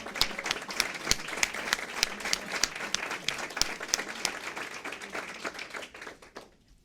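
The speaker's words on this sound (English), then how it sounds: "can we stand and give Miss Wanda Bibbs a big round of applause?" A standing audience at the Start Young launch event applauds Wanda Bibbs after her speech marking 25 years of service, steady dense clapping with sharp individual claps that fades out near the end.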